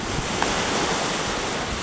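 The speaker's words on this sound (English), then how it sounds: "There's some really big waves out that way." Big surf rolling in at Lanikai Beach on Oahu, near the Mokulua Islands: a steady, dense roar of breaking waves mixed with wind buffeting the microphone, with no voices.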